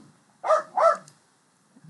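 A dog in the room gives two quick, sharp barks in a row, fairly close and loud, then goes quiet.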